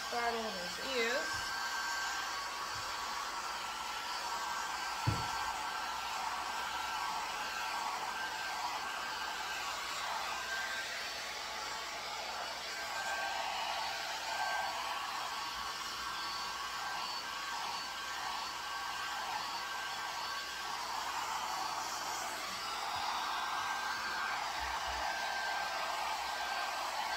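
A hair dryer blows steadily and close up while a dog's ears and head are dried during grooming, a continuous airy roar that holds for the whole stretch with only slight shifts in pitch.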